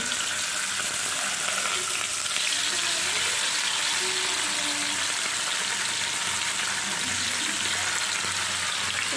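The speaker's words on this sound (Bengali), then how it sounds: "এক এক করে বাটা মাছগুলো ভেজে" Bata fish sizzle in hot oil in a pan, added one by one. A loud, dense and continuous frying hiss fills the whole stretch at close range, with faint clinks from cookware and no speech.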